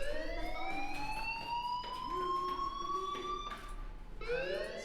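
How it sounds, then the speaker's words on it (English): A fire alarm in the video game Life Is Strange wails with rising, sweeping siren tones that repeat steadily, moderately quiet with no voices over it. "Hey, do you hear that fire alarm?"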